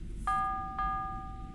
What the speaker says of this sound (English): Just rang a bell.